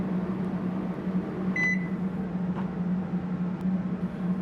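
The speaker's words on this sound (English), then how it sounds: "Then put it in the microwave and start heating." Microwave oven running while heating an agarose gel solution in a lab, a steady low hum with fan noise throughout and a brief electronic beep partway through.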